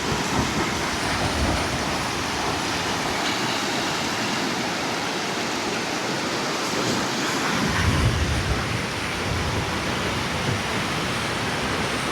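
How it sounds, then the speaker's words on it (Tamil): Loud, continuous rushing floodwater with crashing waves at a broken bridge in Mullaitivu, a dense roaring surge that swells and churns without pause. "இந்த சத்தம் மற்றது தண்ணி போகிற வேகத்தை பார்க்கவே பயமாக இருக்குது"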